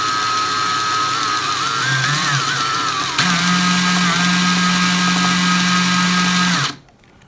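An old electric drill whines loudly and steadily, its pitch shifting slightly partway through, then it cuts off abruptly near the end.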